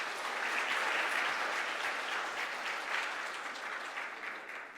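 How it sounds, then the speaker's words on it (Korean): A congregation at a Sunday afternoon church service breaks into full, close applause that holds steadily and then tapers slightly toward the end, with no talking. "우리 박수로 환대해 주시기 바랍니다."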